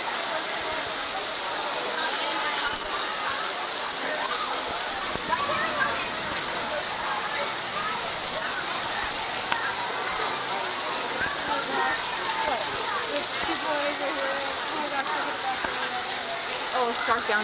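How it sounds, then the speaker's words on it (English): Heavy rain pours steadily throughout, a dense hiss of drops on surfaces, with thunderstorms and voices talking faintly underneath. "Stuck in heavy rain and thunderstorms."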